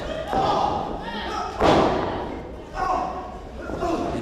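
A wrestler slams onto the ring mat from a big DDT at a WWN Proving Ground wrestling show, a heavy thud standing out under the commentator's voice and crowd noise, followed by a second, softer impact.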